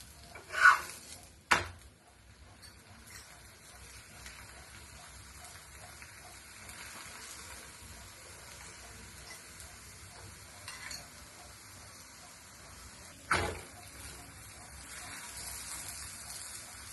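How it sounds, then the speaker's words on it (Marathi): Paneer paratha frying in plain ghee on a pan gives a faint, steady sizzle, broken by a couple of sharp clicks near the start and one more later on. "बघा मी याच्यावर साधं तूप सोडलेलं आहे."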